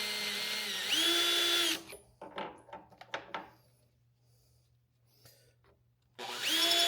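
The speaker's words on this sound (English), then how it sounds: "Most of these are not going to trim much, but I probably will get a little bit on some." A power case trimmer cuts brass ammunition cases for precision reloading, with two loud whirring bursts at the start and end and brief scraping, clicking handling sounds between them.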